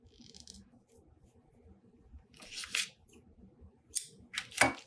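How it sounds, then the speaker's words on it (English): Scissors snip yarn wound on a pom pom maker while crafting a daisy pom pom, a few quiet close cuts and then a quick cluster of sharp snips near the end. "put your scissors through on your pom pom maker and cut all the way across"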